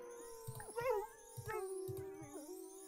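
A dog in The Sims 4 Cats and Dogs growls in several short, low rumbling bursts with whiny, pitch-bending yelps mixed in, faint against a sustained musical tone from the game.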